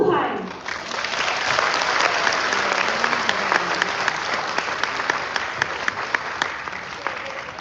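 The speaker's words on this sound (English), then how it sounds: "Can we give another round of applause to all of our participants?" Sustained audience applause at a graduation ceremony, a dense, steady wash of clapping from a large crowd that holds evenly for several seconds with no talk over it.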